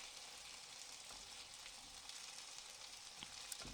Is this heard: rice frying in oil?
yes